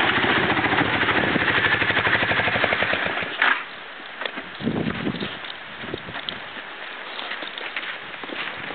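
The engine of a homemade Jacobsen Homelite wood splitter chugs loudly and rhythmically for a few seconds. It then drops to a quieter, uneven rumble broken by occasional knocks and clunks.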